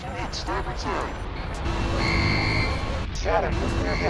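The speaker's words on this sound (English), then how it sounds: "Radiological alarm, two nukes headed toward the net." A radiological alarm sounds aboard a ship in a Battlestar Galactica game, a steady two-tone electronic beep that holds for a couple of seconds under urgent talk and a low engine rumble.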